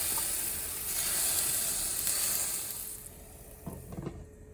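Scallion rolls pan-fry over medium heat and burst into loud, steady sizzling after a few drops of water are sprinkled in. The hiss fades toward the end, followed by a couple of soft clicks.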